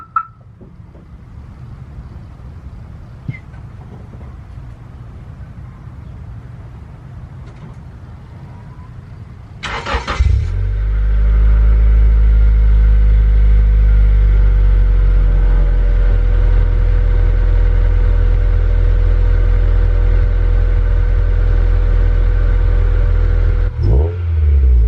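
A car engine that failed a smog test starts at about ten seconds and settles into a loud, steady idle with a deep rumble and constant drone, after quiet background before.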